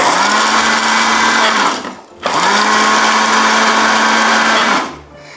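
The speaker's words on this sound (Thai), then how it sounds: "เราปั่นพริกก่อนค่ะ" A blender whirs loudly through chili peppers in two long continuous bursts with a brief pause between them, a steady high motor drone with no talking.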